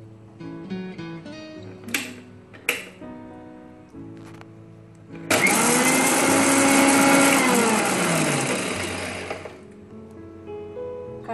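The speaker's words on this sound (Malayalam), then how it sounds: "ഇത് മിക്സിയിലിട്ട് ജസ്റ്റ് ഒന്ന് ഓണാക്കി ഓഫാക്കുക" A kitchen mixer grinder runs in one brief loud burst of about four seconds, cracking mustard seeds for mango pickle, its whining motor winding down after soft clatter and quiet handling sounds.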